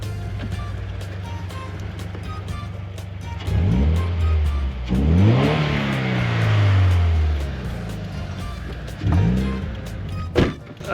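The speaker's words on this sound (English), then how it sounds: "I got myself Rosso Modello muffler" A Toyota 86 exhaust with a Rosso Modello aftermarket muffler burbles at idle, then revs hard twice with deep rasping roars and crackles, followed by another short blip near the end.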